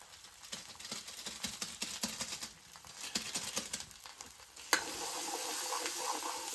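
Onion and spice masala fries in a pan over a wood-fired chulha, a soft, steady sizzle broken by scraping stirs and light pattering, with a louder hiss swelling near the end.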